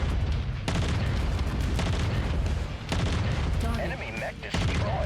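A battle mech blowing apart in MechWarrior 5 under sustained autocannon and pulse laser fire: loud, near-constant booming and rattling shots with heavy low rumble, a brief dip midway, and a voice talking over the din toward the end.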